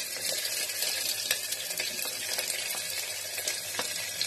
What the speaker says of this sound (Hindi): ये जो मैंने ये प्याज और हरी मिर्च काटे हैं इसको मैं तेल में डाल दूंगी